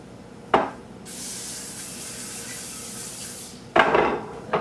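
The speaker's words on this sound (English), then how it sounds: "we're supposed to place them in a baking pan that has been sprayed with vegetable cooking spray" Vegetable cooking spray hisses steadily for about three seconds into a baking pan in a home kitchen, with brief clatters of the pan before and after.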